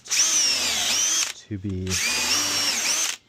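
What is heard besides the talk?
countersink pre-drill drilling into wood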